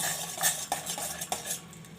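A spoon stirs a pot of boiling water with a little salt and a spoonful of oil, scraping and clinking against the metal in a few distinct knocks over a soft bubbling hiss; no one speaks.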